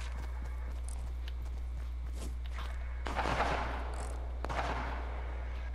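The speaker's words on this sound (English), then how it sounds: "Oh, someone's shooting at us." Gunfire in a Fortnite match: several sharp, scattered shots at moderate distance, with two denser bursts in the second half over a low steady hum.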